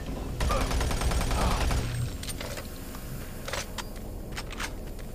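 Gunfire in the game Doom 3: a dense burst of rapid shots for about a second and a half, then a few scattered, sharper single cracks, with no talking.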